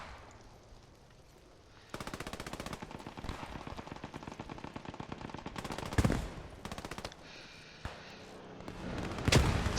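Rapid machine gun bursts rattle through a war video game during a competitive ladder match, starting after a quiet moment and running almost continuously, with a few heavier, sharper shots punching through near the end.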